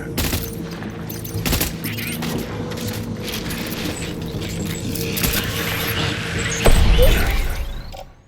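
Gunfire in the Death Stranding video game: bursts of rapid shots and heavy booms over a mechanical hum, with a louder blast near the end.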